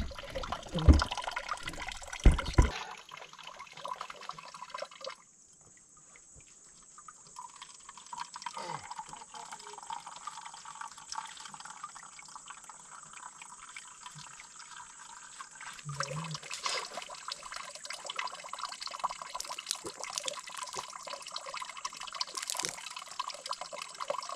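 Steady rushing water flows continuously with a bright hiss at a water source on a Mount Kabunian hiking trail, close by, with a few handling bumps at the start and no talking.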